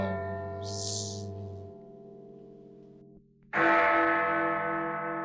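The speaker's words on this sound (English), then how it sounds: "Bong sound for another bonging good roleplay problem." A bong sound effect built from a resonant bell tone that rings and slowly decays, cuts off, then strikes again loudly with a rich, sustained ring; no speech.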